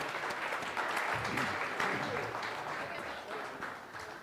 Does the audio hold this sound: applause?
yes